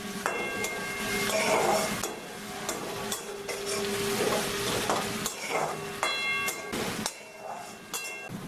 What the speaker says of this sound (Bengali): আদা আর রসুন কুচিটা তেলে সামান্য কিছুক্ষণ ভেজে নিয়ে দিয়ে দিচ্ছি লঙ্কা কুচি